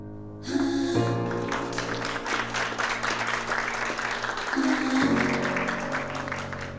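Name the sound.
audience applause at an event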